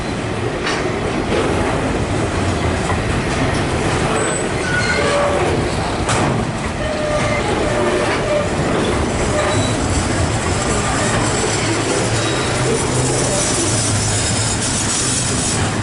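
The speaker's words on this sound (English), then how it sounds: "There goes VL class locomotives with the Maryville paper train." VL class diesel locomotives hauling the Maryville paper freight train rumble steadily past nearby, wheels clattering and squealing over the rails, with a deep continuous engine drone throughout.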